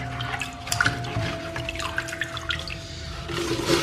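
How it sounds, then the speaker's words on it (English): Herbs being rinsed under running water: a steady splash and trickle with scattered drips, heard close and moderately loud over a faint steady hum. "So just rinse it."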